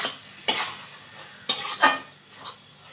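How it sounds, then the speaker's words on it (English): Stuffed squid cooked Goan style with chopped cilantro, stirred in a cooking pan. A few separate scrapes and clanks of a utensil against the pan sound over a faint background hiss, with no talk. "stir it."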